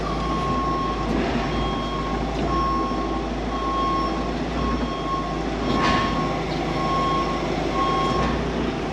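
A farm vehicle reversing to park spring oat seed in a corner of a farm building, a steady loud engine rumble under a regular repeating reversing beep throughout.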